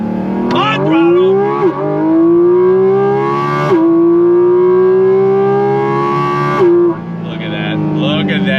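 A Porsche 718 Cayman GT4RS mid-engine sports car with a 9,000 RPM redline revs hard, its loud, close wail climbing steadily through the range with brief dips at each shift, while a voice talks over it.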